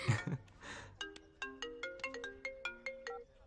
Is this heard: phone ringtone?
yes